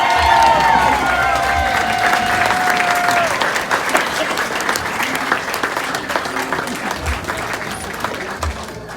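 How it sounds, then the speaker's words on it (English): A wedding audience breaks into loud sustained applause and cheering for the man of honor, dense clapping from a crowd that holds steady and slowly tapers, with a brief whistle early on. "Let's hear a huge round of applause for our man of honor."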